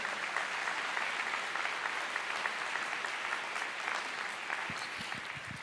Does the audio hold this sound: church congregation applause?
yes